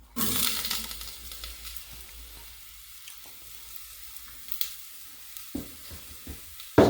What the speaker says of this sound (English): Sizzling quite nicely there.